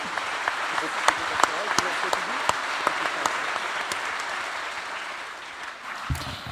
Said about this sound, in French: sa directrice Virginie Larousse, que nous pouvons applaudir